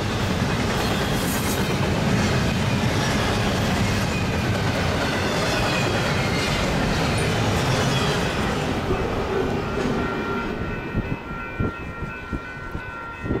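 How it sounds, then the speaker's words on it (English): A Union Pacific double-stack freight train rolls past on the Clinton Subdivision after taking a crossover, a loud, sustained close-range rumble of wheels and cars, with rhythmic clickety-clack and faint wheel squeal toward the end. "that train would be going by that stack train that just took the crossover a little bit"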